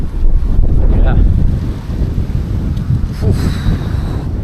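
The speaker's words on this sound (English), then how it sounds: "it's a windy one." Strong wind buffets the microphone in a steady low roar on a hike near Dolbadarn Castle and Llanberis in Snowdonia, Wales, with brief faint speech-like sounds breaking through.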